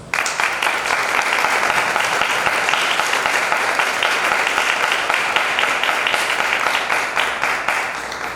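A large audience applauds loudly and continuously at a book presentation, dense clapping holding at full strength for several seconds before easing slightly at the end.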